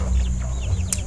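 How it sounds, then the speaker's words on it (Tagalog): Native chickens clucking close by on a backyard farm, a dense flock murmuring over a steady low hum with a brief sharper call near the end. "ito na Mga native chicken ko mga ka-idol"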